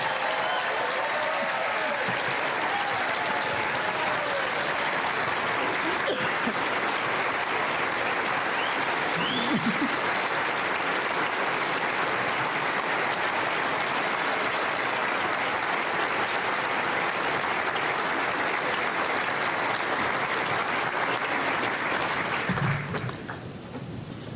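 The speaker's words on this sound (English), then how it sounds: "So I would like if we could offer a round of applause for First Lady Michelle Obama and for all the political spouses here tonight." A large room of people at a Profile in Courage Award event honoring Barack Obama breaks into loud, sustained applause, dense and steady throughout before it starts to taper off at the very end.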